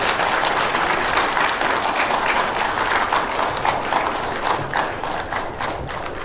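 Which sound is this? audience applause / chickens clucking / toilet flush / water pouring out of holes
audience applause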